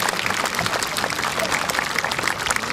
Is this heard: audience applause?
yes